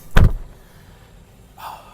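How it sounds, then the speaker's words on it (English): A Tesla Model Y Juniper door shuts with a single solid, close thump, followed a moment later by a faint short click. "Okay, close the door."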